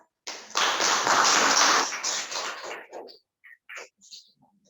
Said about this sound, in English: Please give applause to us.